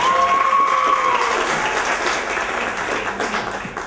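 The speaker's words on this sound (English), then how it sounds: "But round of applause." A comedy club crowd at a stand-up show breaks into loud, dense applause that holds strong and then slowly tapers, with a brief voice at the start.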